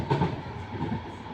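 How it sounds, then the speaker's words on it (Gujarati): A tram rolls along its track with a steady low rumble and faint rhythmic rail clatter, heard from on or near the tram with no voices. "આ છે આપણી ટ્રામ ને આપણે જઈએ છીએ હવે ટ્રામ"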